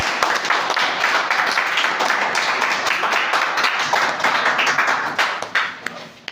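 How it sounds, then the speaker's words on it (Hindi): Audience at a talk breaks into loud applause, dense continuous clapping that thins toward the end into a few scattered claps. "इनके लिए आप एक जोरदार ताली।"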